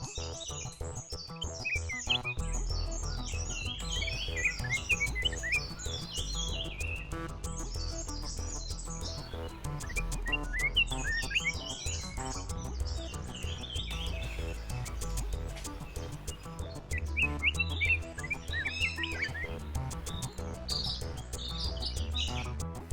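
Wild birds calling around drinking water plates at a resort in the Western Ghats, Goa, with bursts of chirps and tweets repeating over a low steady outdoor hum.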